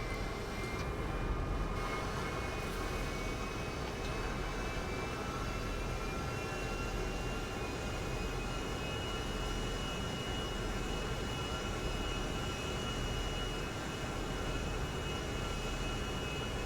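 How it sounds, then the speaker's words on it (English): An airplane in GTA Online freemode flies high overhead, its steady broadband engine roar droning continuously and loudly with no talk. "now I'm just gonna go get a plane and just fly over them"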